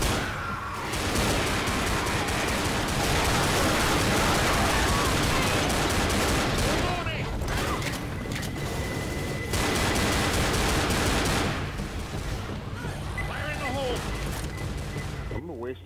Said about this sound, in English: Shoot him, Bryan, use your sniper!